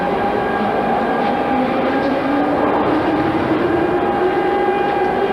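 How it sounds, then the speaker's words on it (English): A Minsk underground metro train rumbles steadily nearby with a sustained whine and hum, a continuous loud drone with no talking. "That's the underground train. It's already here now."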